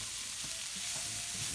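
Tomato puree is stirred into a hot pan, a steady close sizzle broken by soft scraping pulls of a spoon through the paste.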